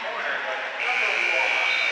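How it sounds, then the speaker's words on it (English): A basketball buzzer sounds to end the third quarter of a girls' regional high school game, a steady electronic tone cutting in partway through over busy arena crowd noise and voices. "Right at the buzzer."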